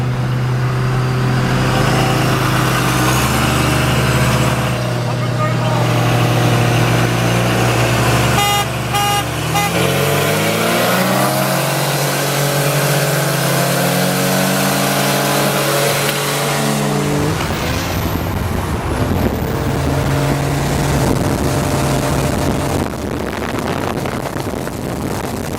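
A Cummins turbo diesel truck roll-races an import car from about 20 mph, with loud, continuous engine drone and rising, shifting tones as the vehicles accelerate, plus wind rush throughout.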